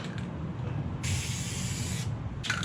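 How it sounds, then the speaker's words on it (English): A short burst of aerosol spray paint on a Mazda RX-7 body hisses for about a second, then another brief spurt, over low background rumble. "You got somewhere that I can do a couple sprays to see how it's gonna fit."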